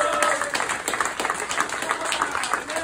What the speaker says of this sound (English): bring a big round of applause to those guys